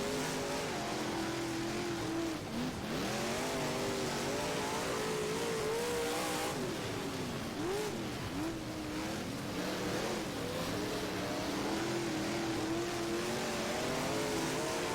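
Big block dirt race car engines roar continuously in the rFactor game at Oswego, a loud close engine with rising and falling revs as the car races among others, no talk.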